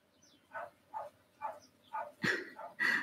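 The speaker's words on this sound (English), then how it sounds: "And an Alfie barking" A dog barks repeatedly at a steady pace, about seven sharp barks, the last few louder and harsher, with quiet background between them.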